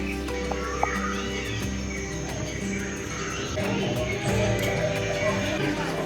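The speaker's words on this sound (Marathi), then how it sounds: "पक्ष्यांचा आवाज येतोय मस्त असा" Birds call and chirp in a dense forest ambience with insect-like buzzing, played in a museum exhibit, mixed with faint voices in the background.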